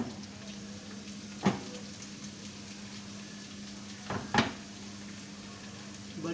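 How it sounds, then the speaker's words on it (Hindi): Whole dried chillies sizzle in hot oil for a tempering, a steady soft frying hiss with a few sharp clinks of a spoon or pan standing out now and then. "साबुत मिर्च डाल दी। इसका हम बघार लगाएंगे"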